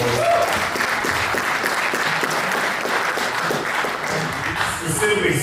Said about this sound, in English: So we give a round of applause for them helping us out a little bit.